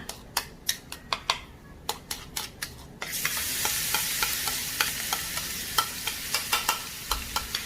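Coarse paste of coriander root, garlic and ginger stir-fried in a pan for a Hainanese Chinese-wine chicken dish: a burst of sizzling jumps in partway through, with steady spatula scrapes and clicks tapping out a loose rhythm, close and moderately loud.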